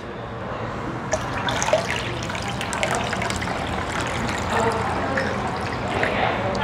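Water from a 2.5-liter supply pours steadily into a Field cast iron skillet, a continuous splashing trickle that holds at an even level throughout.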